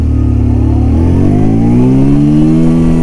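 Bajaj Pulsar 125 motorcycle engine revving hard and accelerating through the gears, loud and close, its pitch climbing steadily with no talk over it.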